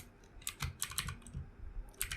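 Quick bursts of keystrokes clatter on a computer keyboard as an address is entered, close and crisp with short pauses between runs.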